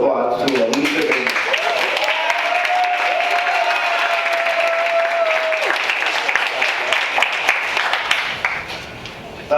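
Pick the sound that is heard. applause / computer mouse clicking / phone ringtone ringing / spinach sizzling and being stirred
applause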